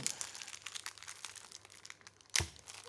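A foil wrapper on a card pack for the Quest Master Revival board game being torn open, quiet crinkling and rustling that ends in one sharper, louder rip near the close.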